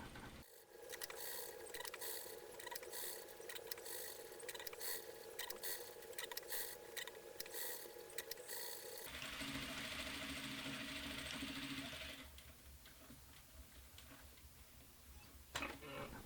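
Sewing machine stitching a closed robe sleeve seam on a medieval monk costume, a fast rhythmic mechanical ticking that runs for most of the stretch, shifting pitch midway and slowing toward the end, fairly quiet overall.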